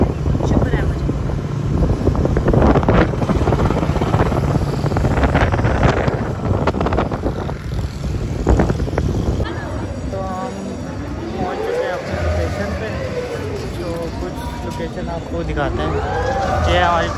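Steady wind buffeting and road rumble from a family riding a motorbike outdoors on the way to Clifton Park, constant and loud throughout, with voices talking over it.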